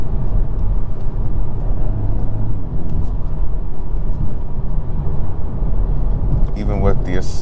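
A 2021 Mk5 Toyota Supra with the 2.0 engine accelerates, heard from inside as a loud, steady low drone that holds throughout, with a brief higher burst near the end.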